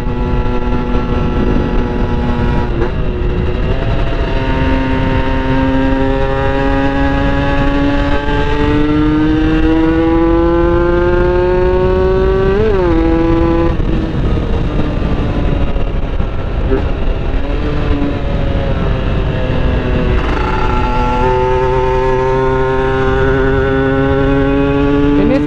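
Up close, a test-ridden motorcycle with a PWK 30 carburetor and a 32 reamer runs loud and steady. Its engine note climbs, then drops briefly at the shift into second gear and climbs again, with a continuous roar throughout.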